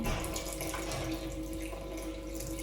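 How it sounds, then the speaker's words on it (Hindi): A cup of warm water poured into a mixing bowl holding yeast, yogurt and oil for pizza dough, a steady close splashing stream throughout with no talking. "1 कप अभी मैंने डाला। जितनी ज़रूरत होगी उतना हम इसमें पानी ऐड करेंगे।"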